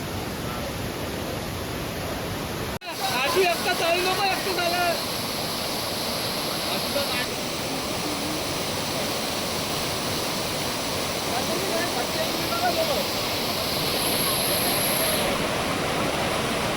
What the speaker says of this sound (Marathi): मस्त होता सातसडा वॉटरफॉल